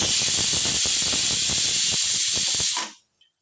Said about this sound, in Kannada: ನೋಡಿ, ಇವಾಗ ಒಂದು ವಿಷಲ್ ಆಗಿದೆ